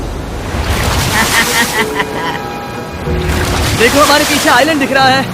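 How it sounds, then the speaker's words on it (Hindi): A big ocean wave rolls in toward people beside an island shore, a broad wash of surf and wind noise under someone talking, swelling louder in the second half. "ये आई बड़ी लहर।"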